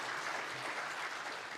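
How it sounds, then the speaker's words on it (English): Applause from the audience at the Kenya Innovation Week launch in a venue, a brief, steady burst of many hands clapping at moderate volume, heard alone without talk. "a round of applause for"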